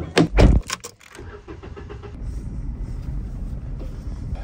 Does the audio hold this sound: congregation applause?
no